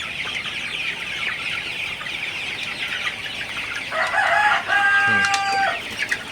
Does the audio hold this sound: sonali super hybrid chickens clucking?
yes